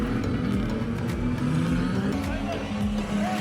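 Race car engine at Greymouth Speedway during a spin-out, steady engine drone with shifting pitch sweeps, mixed with crowd noise and an announcer-style voice talking over it.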